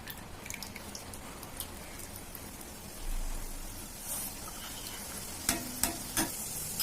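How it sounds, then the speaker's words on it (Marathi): Boondi being stirred in hot oil in a pan, a steady frying sizzle with a few sharp scraping taps near the end, no voices. "आपण याला थोडं हलवून घेऊया"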